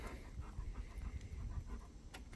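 A dog pants steadily at close range while jumping up into the back of a Chevrolet Silverado EV pickup's bed, the breathing rough and continuous against low rumbling handling noise.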